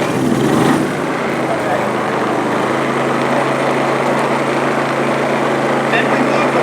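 Wen 4800 dual fuel generator running: a loud, steady small-engine hum with a dense buzzing drone that holds constant throughout, close to the listener.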